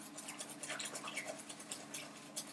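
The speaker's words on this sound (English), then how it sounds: "just keep whisking it" A whisk beats custard with vanilla in a bowl, making quick rhythmic scraping and soft wet swishes, close but fairly quiet, with no talking.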